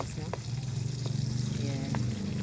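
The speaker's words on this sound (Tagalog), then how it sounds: "igisa niya muna guys yung spices" Spices sauté in a pan with a dense, steady sizzle and a low bubbling rumble, plus a few soft taps from a utensil, close and continuous, with a voice in the background.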